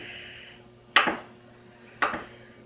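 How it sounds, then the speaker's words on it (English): Two sharp knife chops on a cutting board, about a second apart, slicing green onions at a kitchen workstation with a freshly sharpened knife; close and crisp with quiet between. "Then we come back over to my workstation and chop up the green onions"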